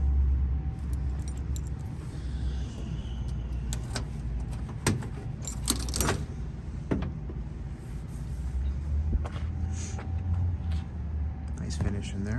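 Original keys of a 1969 Ford Mustang Mach 1 with S Code 390 jangle in sharp, scattered metallic clinks. Quiet car interior noise sits beneath them, and someone talks over part of it.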